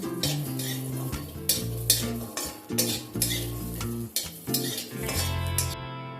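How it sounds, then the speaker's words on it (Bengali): Peeled garlic cloves dry-roast in an empty kadai, a spoon scraping and stirring in repeated close strokes over a soft sizzle, with no talking. "রসুনটাকে আমি এরকম শুকনো কড়াই আমি একটু নাড়াচাড়া করে ভেজে নেব।"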